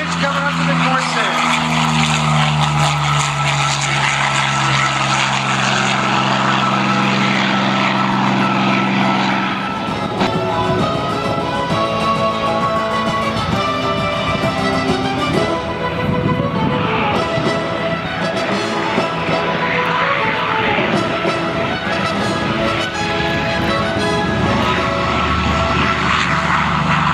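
Radial-engine roar of a Corsair warbird propeller plane at the Geneseo airshow, a loud continuous drone with a falling pitch early on, then a broad, steady engine rumble carrying on to the end.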